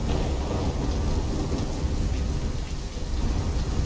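A thunderstorm in the Call of Duty: Black Ops III video game: steady heavy rain pours with a low rolling rumble of thunder, dense and continuous without speech.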